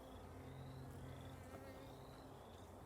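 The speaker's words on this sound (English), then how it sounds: "that's a female bee or a worker bee on my hive tool there" A worker honeybee buzzes at an open backyard hive, its thin whine drifting in and out over a dense, steady hum of the colony, fairly faint and continuous with no talking.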